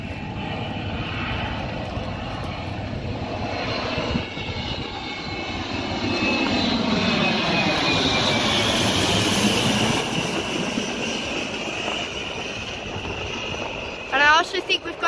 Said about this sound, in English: And now is a Qantas Boeing 737-8FE.